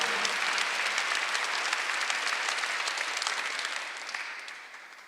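A church congregation at a Sunday worship service claps together on a pastor's invitation, a loud, dense, steady burst of applause that fades gradually toward the end.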